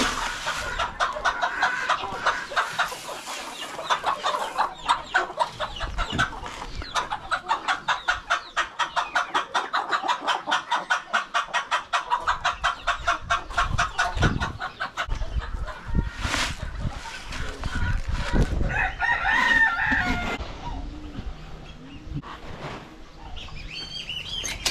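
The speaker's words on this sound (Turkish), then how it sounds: "Bu da cüce Avustralop. Yeni aldım." Bantam Australorp chickens on a small farm cluck in a rapid, rhythmic series close by, with chirping birds and wing flaps around them and a louder outburst toward the end.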